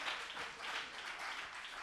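Faint studio audience applause in a television broadcast, a steady wash of many hands clapping heard at a distance with low level throughout.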